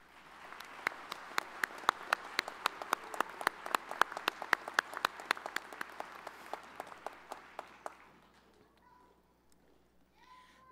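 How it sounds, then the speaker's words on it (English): An autumn 2014 commencement crowd at Central Ohio Technical College gives brisk, rhythmic applause with crisp individual claps. It fades out after about eight seconds, leaving faint murmuring and a brief voice. "Let's give all of those folks a round of applause."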